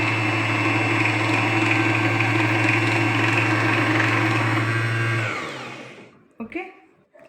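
A Singer sewing machine runs steadily with its pedal pressed while winding a bobbin, giving a loud, continuous motor whir with a low hum for about five seconds before it stops abruptly, leaving a few faint clicks and handling noises.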